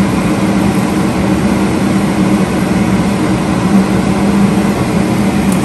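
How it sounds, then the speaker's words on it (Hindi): A kitchen exhaust fan runs as a steady, fairly loud droning whir with a low hum underneath, constant and unbroken throughout with no voices. "साथ में एग्जॉस्ट फैन भी लगा हुआ है, इसलिए आवाज़ इतनी ज़्यादा नहीं आ रही होगी।"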